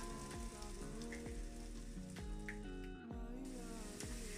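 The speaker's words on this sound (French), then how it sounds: "Donc là, les pommes de terre sont bien frites, on va dire." Potatoes frying in oil in a pan give a steady, dense sizzle and crackle, with small pops scattered through it. The noise holds at a moderate level, close by, with no talking.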